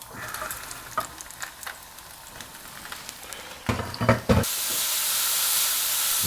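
Mushrooms drop into a pan of hot clarified butter: a few clinks and stirs, then a sudden loud, steady sizzle and hiss that continues close up.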